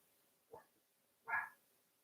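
Dogs bark twice, a short yip and then a louder, fuller bark, both distant and faint, with no other sounds in between.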